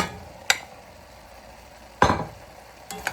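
A spoon stirs potatoes, onions and vegetables in a cooking pot for vegan Hungarian goulash, giving three separate clinks and scrapes against the pot with quiet pauses between them.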